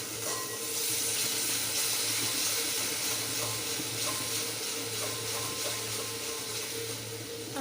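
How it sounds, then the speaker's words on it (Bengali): Water poured into a pan of cooking potato filling with sugar, hissing and sizzling steadily throughout at close range with no talk. "একটু সামান্য পরিমাণে জল দেব।"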